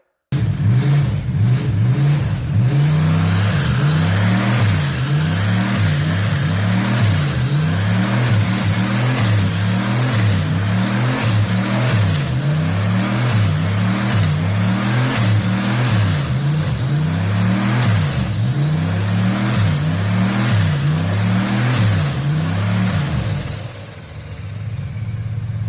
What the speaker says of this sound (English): We'll put a little bit of video here so you can actually hear spool up a little bit.